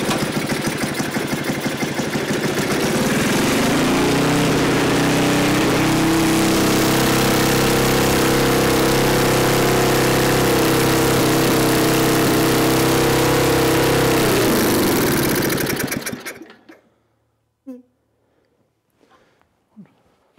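An old, neglected Craftsman snowblower engine runs at a loud, steady, rough drone for about fifteen seconds before shutting off, leaving a few faint knocks and clicks in near silence.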